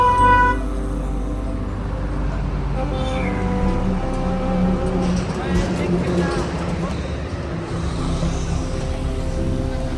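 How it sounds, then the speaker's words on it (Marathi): Busy road traffic with a tempo truck nearby and short car horn toots sounding now and then, all under steady chatter and speaking voices. "टेम्पो लागलाय."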